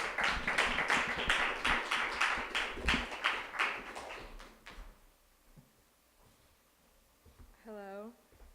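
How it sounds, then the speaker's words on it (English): Audience applause for a reader named Robyn at a spoken-word reading event: a burst of clapping that fades out after about five seconds, followed by near silence. "Give a round of applause for Robyn."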